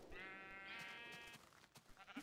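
Sheep bleats from the video game Minecraft: one long, wavering bleat, loud and close, followed by fainter game noises and clicks.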